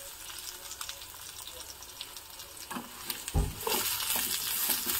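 Ridge gourd pieces drop into a hot pan of tempering for a chutney. A soft sizzle swells partway through, with stirring clatter and scraping in a quiet kitchen.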